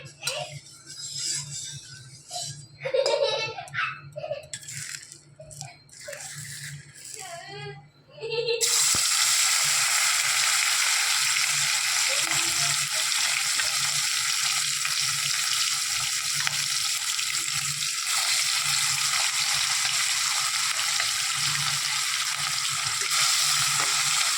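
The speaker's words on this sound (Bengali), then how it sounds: "আমি সর্ষের তেল দিয়ে মাছটা ভাজবো" Fish hits hot mustard oil and bursts into a loud, steady sizzle that fills the rest of the stretch after some earlier quieter clattering and voices.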